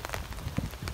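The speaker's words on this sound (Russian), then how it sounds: "Вот он, дождь пошел. Прям такой приличный." Rain falls steadily outdoors at a Siberian country garden in September, a close, continuous patter of drops with no voices.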